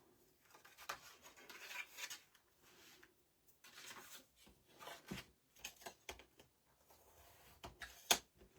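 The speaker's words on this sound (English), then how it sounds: "Pop that in place. And again, a good burnish down." Paper pieces being rubbed and burnished down by hand while assembling a paper craft album, a series of soft, dry rasping strokes in short bursts with pauses between them, fairly close and quiet.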